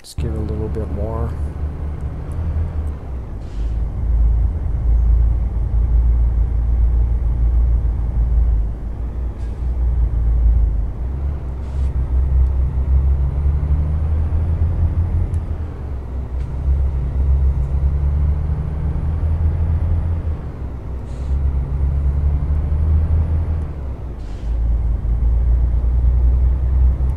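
A MAN TGX Euro6 truck engine in Euro Truck Simulator 2, hauling a 24-tonne load of tubes, drones with a steady low rumble throughout, with brief hisses and clicks over it.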